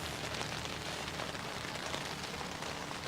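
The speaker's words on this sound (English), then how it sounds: "We can see here a big rain." Heavy rain pours steadily onto an outdoor cricket ground during a club match, a dense, constant broadband hiss with no breaks and no voices.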